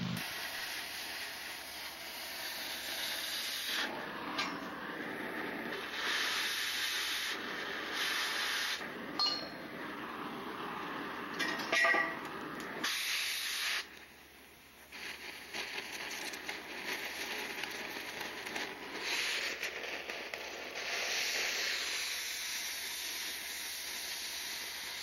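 A cutting torch hisses steadily while cutting metal in a welding job, a faint continuous rushing hiss with brief breaks and occasional clinks of metal.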